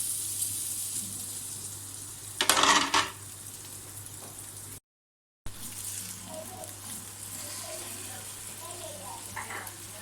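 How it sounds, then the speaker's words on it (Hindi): A potato dropped into hot oil in a frying pan gives a short, loud burst of sizzling that fades after about half a second, over a steady low hum with faint background voices. "ये मेरे पास फ्राई पैन है, इसको मैं इसमें डालूंगी ऑयल। एक आलू है, इसमें मैं डालूंगी।"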